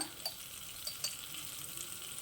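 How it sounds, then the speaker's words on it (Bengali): Whole coriander seeds hit hot mustard oil in an unwashed wok while making Kashmiri red chilli pickle, giving a steady, close, bright sizzle and crackle throughout, with faint pops scattered over it. "তেল গরম হয়ে গেছে দিয়ে দিচ্ছি এক চামচ আস্ত ধনিয়া"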